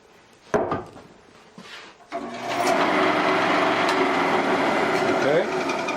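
A wood lathe holding a cherry blank for knobs starts up after a few handling knocks and thumps, then hums at a steady loud whir as it spins.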